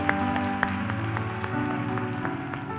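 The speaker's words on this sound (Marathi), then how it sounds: "जोरदार टाळ्या प्रभू येशूसाठी" A church congregation claps for Jesus at a worship service, a dense steady wash of applause running throughout with a few sharper individual claps standing out, under sustained music or voices.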